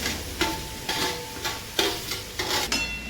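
Pumpkin slices sizzle and crackle in hot ghee, broken by several sharp scraping stirs of a utensil against the pan, with no talking.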